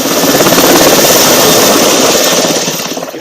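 A rescue helicopter flying over open Irish hills, its rotor churning out a loud, steady, close chop that holds for several seconds and eases a little toward the end.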